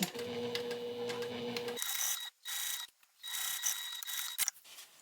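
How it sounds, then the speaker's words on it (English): A sewing machine topstitching fabric an eighth of an inch from the edge, whirring in a fast mechanical stitching rhythm, then running in short bursts with brief pauses, close and quiet. "let's go ahead and top stitch 1/8 of an inch away."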